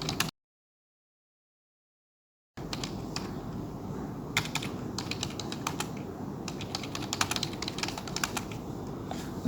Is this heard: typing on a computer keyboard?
yes